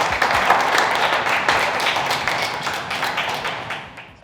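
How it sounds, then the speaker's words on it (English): An audience at an AGC Minneapolis talk applauds a speaker, a dense, close patter of many hands clapping that holds steady and then tapers off toward the end. "Give it up, a big round of applause to Brian Muller."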